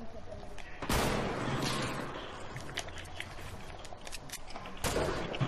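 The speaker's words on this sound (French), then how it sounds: "Attention, ça tire." Gunfire in the Fortnite video game during a tournament match, a burst of loud shots near the start and another near the end, with game sounds throughout.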